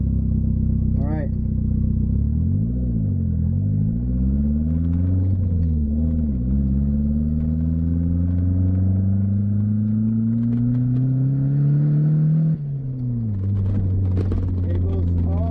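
A turbocharged second-generation Mitsubishi Eclipse running 7.5 PSI pulls hard through the revs: a loud, steady engine drone rising continuously for about ten seconds, then dropping sharply as the throttle lifts and the engine settles into a lower rumble.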